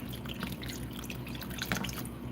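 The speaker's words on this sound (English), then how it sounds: "I'm gonna add some beef broth to the spaghetti." Beef broth pours into a pan of spaghetti, giving a steady close-up trickle and drip of liquid over a constant background hiss.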